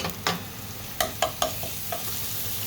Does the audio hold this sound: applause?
no